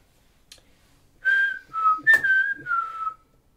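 A person whistles several clear notes in a bus museum. The short, close phrase of sliding tones follows a brief knock, set against near silence.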